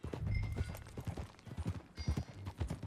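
Horse hooves clip-clopping in Red Dead Redemption 2, a steady trotting beat of close, fairly loud hoof falls that continues throughout with a faint whinny in the mix.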